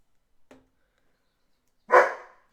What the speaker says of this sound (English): you should not be barking at them